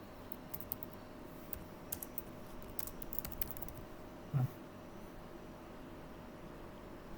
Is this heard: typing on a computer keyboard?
yes